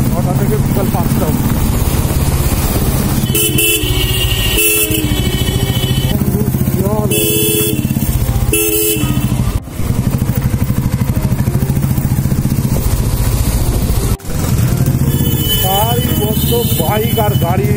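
Motorbikes and cars queue at a traffic signal near Thakurpukur Bazar metro in Behala, with engines running and a few horn blasts rising over steady traffic noise while people talk throughout.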